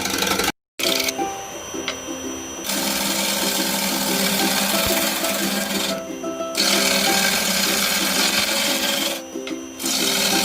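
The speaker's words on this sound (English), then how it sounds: "First, we will cut the wood into half" A power tool cuts through a wood log, running in long buzzing stretches with a rhythmic whir, briefly stopping and restarting between passes.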